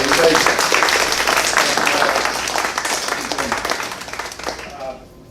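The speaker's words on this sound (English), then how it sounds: "How about a round of applause?" Audience applause at a community scam-alert presentation, dense steady clapping from a crowd that thins and fades out near the end.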